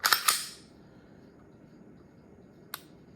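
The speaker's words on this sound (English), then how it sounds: "that's that new trigger from Smith & Wesson" A Smith & Wesson pistol trigger is dry-fired, giving two sharp clicks close together, then a single fainter click a couple of seconds later over quiet room noise.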